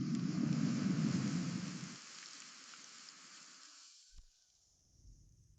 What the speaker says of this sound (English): Then, the rain began.